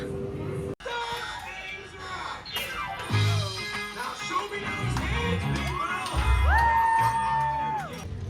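A crowd waiting for rope drop at Disneyland mills about, with scattered chatter, shouts and children's voices nearby, a sharp bang early on and rising tonal whistles or music toward the end.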